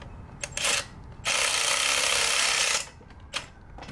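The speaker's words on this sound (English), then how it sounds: "then you go come back with that torque wrench and get it going. Now I gotta retorque it." Torque wrench retorquing joints on a Camaro SS engine build, with a few short ratcheting clicks and then one sustained grinding ratchet pull of about one and a half seconds, close and clear.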